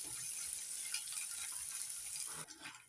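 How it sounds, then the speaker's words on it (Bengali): Peanuts dry-roasting in a pan without oil and being stirred, a dense close hiss and rustle that drops off abruptly near the end, followed by softer scraping. "নাড়াচাড়া করে ভেজে নিচ্ছি।"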